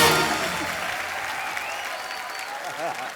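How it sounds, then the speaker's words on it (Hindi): Enthusiastic studio audience applause on a televised comedy talk show, a dense, steady wash of clapping that fades slightly, with faint voices mixed in. "जोरदार तालियां यामी, ऋतिक सर और उर्वशी के लिए"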